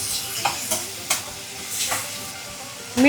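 Onion and tomato frying in a pan, an even sizzle punctuated by several quick stirring scrapes and taps, close up and fairly loud, with no one talking.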